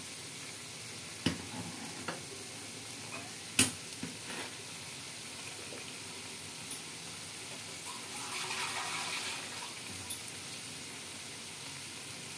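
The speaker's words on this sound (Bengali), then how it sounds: "একটু জল দিয়ে দিলাম" Water from a poppy-seed paste bowl is poured into a pan of frying pointed gourd and potato posto curry, giving a soft hissing, bubbling rush late on after a few faint clinks over a low background sizzle.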